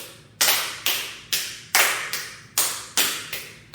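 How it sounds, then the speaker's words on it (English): Patty cake hand clapping: eight crisp, evenly spaced slaps of hands in a steady rhythm, close and clear, each one decaying quickly before the next, with no talking. "I'm going to clap, high, low, clap, high, low"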